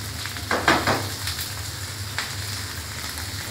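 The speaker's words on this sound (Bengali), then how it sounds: "এখন পেঁয়াজ আর রসুন কাঁচা মরিচটা একটু তেলে ভাজে নিলাম, শুটকিগুলা দিয়ে দিলাম।" Dried fish frying in hot oil with onion, garlic and green chili, a steady close sizzle with a few louder crackling bursts early on and one sharp pop later.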